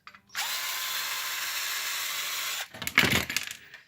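A power screwdriver whirs steadily for about two seconds while unscrewing a bracket inside an HP Officejet 4620 printer, then stops and a brief clatter of parts and handling follows.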